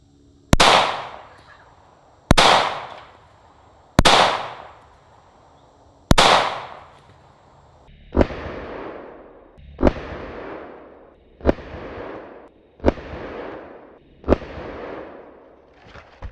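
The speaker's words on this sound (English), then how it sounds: "It took about 5 shots for us to cut this thing completely in half." Nine sharp gunshots ring out one by one, spaced about two seconds apart, fired into a pineapple; the first four crack louder and brighter, the later five slightly duller, each followed by a short decaying echo outdoors.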